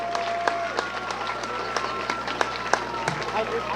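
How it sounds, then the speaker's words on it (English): Crowd applause rings out at a 2018 high school homecoming football game, Millersburg at Upper Dauphin, honoring the homecoming queen and her court: steady outdoor crowd noise punctuated by scattered sharp claps, with no clear speech. "Please give a final round of applause to Miss Slanker, the 2018 UDA Homecoming Queen"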